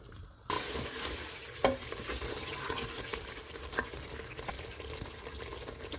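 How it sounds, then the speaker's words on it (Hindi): Mutton sizzles and is stirred in oil in a pan over a full flame during a gravy preparation, with continuous close frying crackle and occasional scraping clinks throughout. "चूल्हे को फुल रखेंगे और इसको ऑयल अलग होने तक भूनेंगे।"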